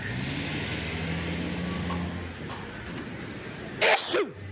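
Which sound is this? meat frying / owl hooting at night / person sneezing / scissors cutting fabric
person sneezing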